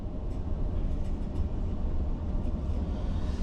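Doon Express train rolling into Kashi railway station, a steady low rumble and clatter of wheels on track heard from on board, continuous and fairly loud with no talk.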